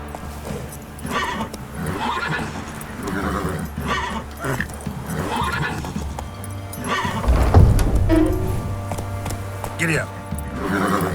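Roach, Geralt's horse in the video game The Witcher 3: Wild Hunt, gallops with steady hoofbeats beneath music, a neigh rising near the middle while voices talk over it.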